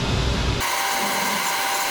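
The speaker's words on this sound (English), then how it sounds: "Cutting on a flatbed cutter." Flatbed cutter slicing adhesive vinyl for A-frame signs, a short burst of gritty mechanical cutting noise that cuts off abruptly into a thinner, steady machine hum.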